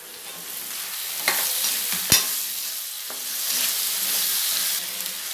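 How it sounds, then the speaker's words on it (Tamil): Tomatoes sauté in a pan for paneer pulav with a loud, steady sizzle close by, broken by a few sharp utensil knocks and stirring scrapes. "தக்காளி போட்டு வதக்கிக்கோங்க"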